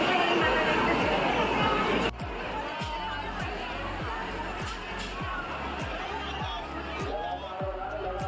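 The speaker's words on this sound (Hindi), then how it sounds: "जैसे ही हम मंदिर पहुँचे बहुत ज़्यादा भीड़ थी" Crowd at Banke Bihari temple in Vrindavan, a steady wash of many voices and babble, with a regular low thumping running underneath throughout.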